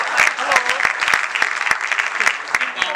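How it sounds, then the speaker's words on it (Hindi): Loud, dense audience clapping at a Hindi comic poetry gathering (hasya kavi sammelan), sustained for several seconds with sharp individual claps standing out near the listener. "उनका जोरदार तालियां बजाएं।"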